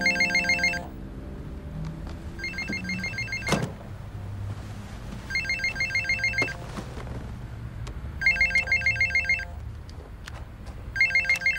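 A telephone rings repeatedly in bursts of bright electronic trilling, four or five separate rings with pauses between, fairly close, over quiet room noise with a soft thump partway.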